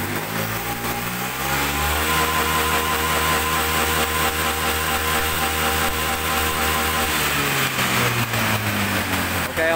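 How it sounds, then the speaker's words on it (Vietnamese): A Honda Air Blade scooter with a throttle hesitation fault is revved hard to clear its exhaust; the engine whines up, holds a loud, steady high pitch close by, then drops back toward idle. "Nẹt ga cái đá để xem nó thông thoáng, nó đốt hết, nó thải ra bô đi ạ."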